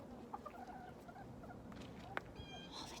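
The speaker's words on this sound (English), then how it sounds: "Look, you see the chickens?" Chickens at a nature center cluck in soft, scattered bursts, faint and distant beneath steady outdoor background noise, with no talking.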